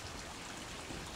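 Steady, rushing water flows without pause, a constant broadband wash from a covered stream running beneath a narrow alley in Busan's hillside neighborhood.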